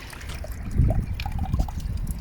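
A small garden water feature bubbling and trickling softly close by, with a steady gurgle of flowing water and no talking.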